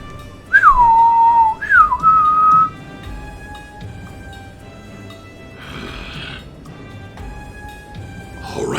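A person whistles two short sliding notes, the first falling and the second rising then holding, loud and close, followed by quieter background noise with a brief hiss of static partway through and another burst near the end.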